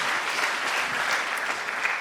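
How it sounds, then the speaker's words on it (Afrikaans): A church congregation claps for Hugo at a praise-singing service with a choir, a steady, fairly loud wash of many hands held evenly throughout. "vir Hugo lekker hande klap gee"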